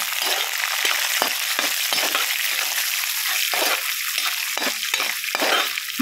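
Cumin seeds, green chillies and two dry red chillies frying in oil in a pan for amla pulihora, a continuous close sizzle with scraping stirs from a spatula.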